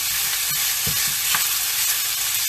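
Chicken strips stir-fry in a pan with a loud, dense, continuous sizzle and occasional soft scrapes from the spatula.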